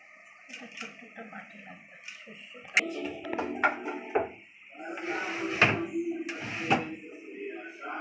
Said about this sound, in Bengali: এই যে আদা জিরা বেটে নিচ্ছে বাটা মাছে দেওয়ার জন্য